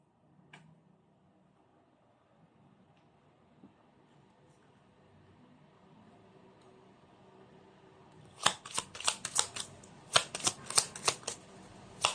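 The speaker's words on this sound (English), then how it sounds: "let's try to pull up another set of cards" Tarot cards being shuffled and pulled: quiet room tone at first, then a burst of sharp, crisp riffling and slapping card sounds in quick succession, loud and close.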